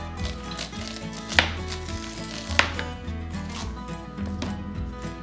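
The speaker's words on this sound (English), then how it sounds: "And then we're just gonna cut the corn off." Knife cutting kernels off corn on the cob, a steady run of close, crisp chopping strokes with two sharper knocks against the board.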